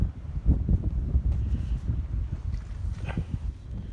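Gusty wind buffets the microphone outdoors by a cattle pasture on a cloudy, cold day, a low, rumbling roar that swells and fades unevenly across the clip.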